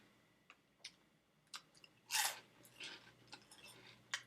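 Spicy pork rinds are crunched in close bites: a few sharp isolated cracks at first, then a loud burst of crunching followed by softer, irregular chewing crackles, with no talking.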